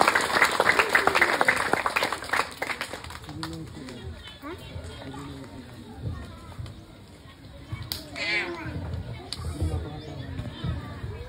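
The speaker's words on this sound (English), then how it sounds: "A round of applause, please." Audience applause for a guest speaker at commencement exercises, a burst of clapping for the first few seconds that dies away, followed by scattered noise and speech from the crowd.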